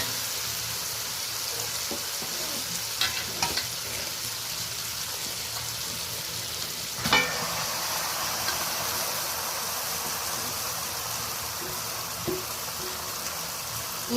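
Country chicken marinated in spices and yogurt fries in a pan with a steady, moderate sizzle, broken by a few soft clinks and one sharper knock of the utensil.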